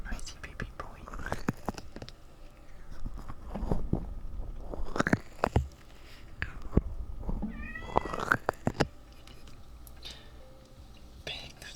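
A pet cat meows close up a few times between rustling, mouth sounds and soft whispering.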